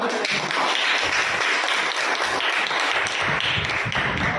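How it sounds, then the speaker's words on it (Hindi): A crowd applauds steadily throughout, dense overlapping claps at an even loudness with no pauses. "जोरदार तालियां होनी चाहिए"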